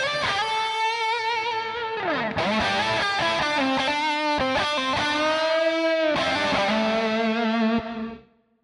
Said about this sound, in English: it's a gated reverb, it just doesn't last very long and it doesn't muddy up the mix